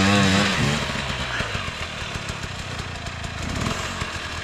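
Enduro motorcycle engine on a trail ride revving hard, a loud close buzzing roar with rising and falling pitch sweeps, steady throughout.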